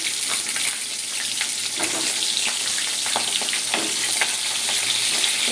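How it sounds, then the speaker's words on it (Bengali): Pointed gourd (potol) frying in hot oil in a wok, giving a steady, close sizzle with scattered crackles and pops throughout, no voices. "আমি পটলটা আগে ভেজে নেব।"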